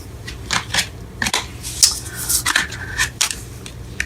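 Tarot cards are shuffled by hand in a series of quick, papery riffles and soft slaps at close range, with no talking.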